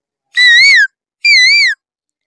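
A human voice mimics the call of an Asian koel with two separate whistled notes, each wavering up and down in pitch, close, clear and evenly spaced with a short pause between them.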